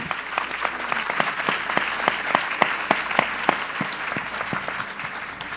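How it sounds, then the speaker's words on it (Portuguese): Audience applauding Manuela at a book fair, a steady wash of many hands clapping with sharp individual claps standing out, fairly close and sustained throughout. "Palmas para a Manuela."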